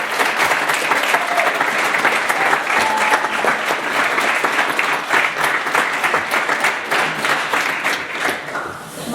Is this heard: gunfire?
no